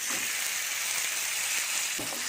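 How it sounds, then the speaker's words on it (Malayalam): Chopped tomatoes frying in a tablespoon of hot oil in a pan for tomato pickle, giving a steady close sizzle throughout with a couple of soft stirring scrapes and no talking. "അതിലേക്ക് നമുക്ക് അരിഞ്ഞു വെച്ചേക്കുന്ന തക്കാളി ഇട്ട് കൊടുക്കാം."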